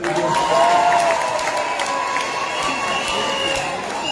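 A crowd at an AIPCA church rally in Gatura, Gatanga, applauding and cheering in a steady, loud wash of clapping that tapers only slightly, with voices mixed in.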